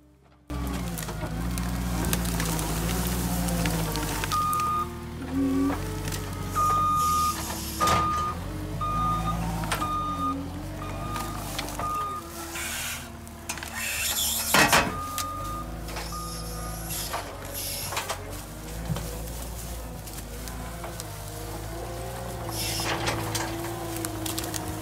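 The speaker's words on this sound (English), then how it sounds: "Skid steer is a really amazing machine that" A CAT 259D skid steer with a grapple runs steadily as a loud, continuous engine drone, with a repeated reversing beep chiming at regular intervals through the first half over the mechanical noise.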